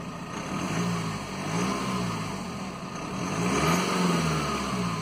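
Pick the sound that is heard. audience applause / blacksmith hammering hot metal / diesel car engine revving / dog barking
diesel car engine revving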